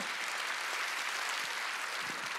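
A church congregation claps together at a Wednesday worship service, a dense, steady wash of applause that holds at an even level throughout, with no voices breaking through.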